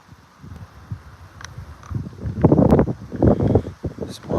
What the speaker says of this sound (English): Small bit of a wind blowing